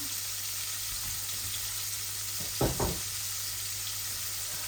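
Steady hiss of hot oil frying in a pan while rohu fish is cooked, a continuous broadband sizzle with a brief louder splutter or knock near the middle, close and alone with no talk.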